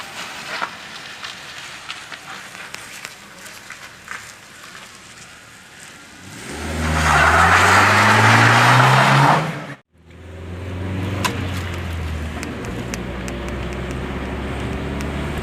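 A car pulls out of a parking spot and drives off. The engine is close and climbs into a loud, rising rev midway, cuts briefly, then settles into a steady running hum.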